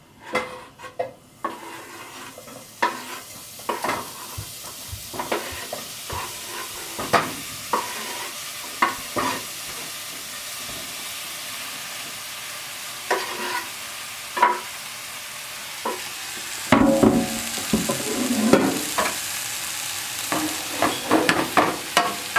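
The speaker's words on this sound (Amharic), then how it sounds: "ቶሎ ቶሎ ማስላለሁ እኩል እንዲበስል ማለት ነው" Beef for derek tibs sizzles in a hot pan while a utensil scrapes and clacks against the metal in quick, irregular strokes, close and clear without any talking.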